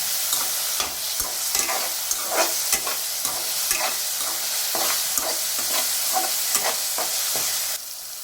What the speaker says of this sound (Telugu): ఇప్పుడైతే మనం మిర్చి మంచిగా వేగిపోయింది కదా